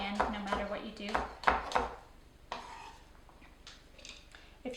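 Knife chopping green onion finely on a cutting board for a summer southwestern salad, a quick run of close, rapid taps, then scattered softer knocks and scraping.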